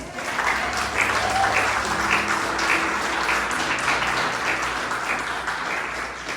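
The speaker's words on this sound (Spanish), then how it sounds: "Dale un aplauso a Dios." A church congregation applauds steadily and loudly throughout, a dense wash of many hands clapping with faint voices mixed in.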